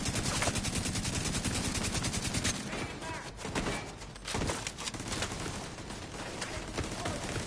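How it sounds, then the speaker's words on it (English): Rapid automatic gunfire from The Division 2 video game rattles loudly and continuously, dense bursts easing briefly in the middle before picking up again, with no voices over it. "Who else is shooting at me?"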